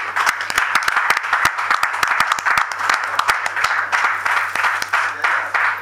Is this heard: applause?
yes